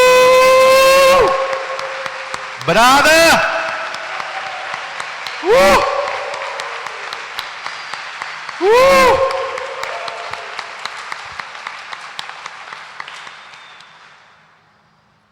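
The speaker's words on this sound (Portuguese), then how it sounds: "Dê uma salva de palmas para Ele" A church congregation breaks into applause during a Sunday Mass homily. Loud voiced calls and shouts come in bursts, then a sustained round of clapping follows and fades toward the end.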